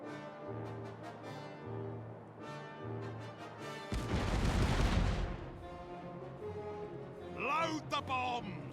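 Ship cannons fire a heavy broadside in the Caribbean Legend pirate game, a loud booming burst with a long rumbling roar over background music, followed by crackling debris and whistling effects.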